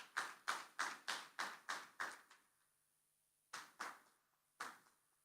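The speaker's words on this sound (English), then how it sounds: "That round of applause sounded like just one person." Sparse applause from a small audience at a governance meeting: a run of about eight evenly spaced claps, like one person, then a pause and a few more isolated claps, faint and in a quiet room.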